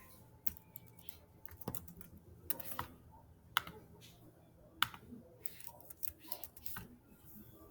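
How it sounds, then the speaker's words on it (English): Fingers type on a computer keyboard, a close, irregular patter of light clicks with a few sharper key strikes, quiet and without talk. "I'm going to type in my answer."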